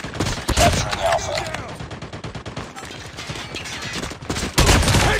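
Gunfire from the SP-R 208 sniper rifle in the Call of Duty Mobile beta, sharp shots and bursts mixed with game battle noise and voices talking underneath.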